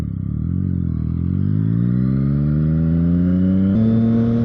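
A Yamaha MT-09 motorcycle pulls away after refuelling, its engine loud and close as it revs up with a steadily rising pitch, then briefly drops and climbs again at a gear change.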